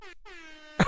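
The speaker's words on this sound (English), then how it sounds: "I love the air horn, man." A single loud air horn blast with a strong steady harmonic tone holding for most of a second, cut by a brief gap, then ending in a sharp burst.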